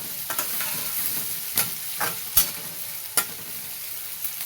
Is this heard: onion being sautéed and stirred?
yes